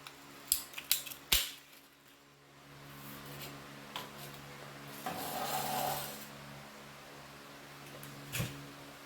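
A handheld cutter works around a plastic tube for house wiring, giving several sharp clicks and snips early on, then a softer grinding crunch as the blade bites through, fairly close and quiet.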